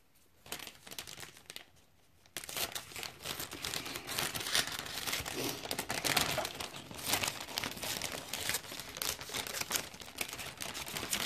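Scissors cut a sheet of cellophane gift wrap in half, a continuous crisp crinkling and rustling close up that starts after a brief quiet pause and keeps going with no speech.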